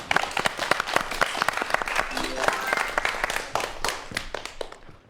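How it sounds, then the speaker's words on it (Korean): Audience applause for the final lecture of a virtual reality talk event, a dense burst of clapping that fades toward the end, with some voices mixed in. "큰 박수 부탁드립니다"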